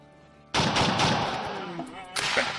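Rapid video game gunfire as a character shoots a bear in Rimworld, a sustained loud burst of shots with a fresh volley near the end, with a faint voice in the background.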